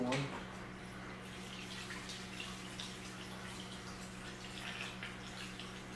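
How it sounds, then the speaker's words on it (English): Water pours into a container for an Odyssea CFS canister filter, a steady broadband splashing stream running the whole time at moderate level, with no talk. "Let me put some water in there."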